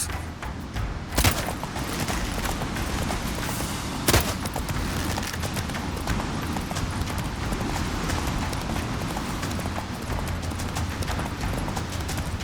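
In the Witcher 3 video game, the horse Roach gallops with steady rapid hoofbeats that carry on throughout, joined by a couple of sharp bangs and other game noise.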